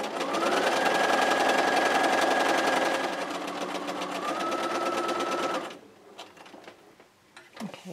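A sewing machine stitches a quilt with a rapid, even mechanical whir for about five and a half seconds, its pitch dipping briefly midway, before stopping and leaving small handling clicks.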